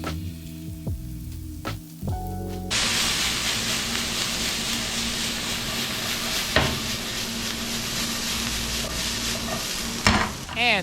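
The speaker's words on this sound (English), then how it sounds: "you can saute your onions in medium heat and making sure that you move them around the pan" Onions sautéing in oil in a pan over medium heat, a steady close sizzle with scraping stirs as they are moved around, preceded by a few clinks and knocks before the frying noise swells.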